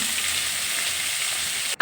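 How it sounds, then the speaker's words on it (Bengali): Cauliflower florets frying in a pan with salt, giving a steady, close, even sizzle throughout, with no talking. "এই ফুলকপি ভাজার সময় এর মধ্যে একটু লবণ দিয়ে দিলাম"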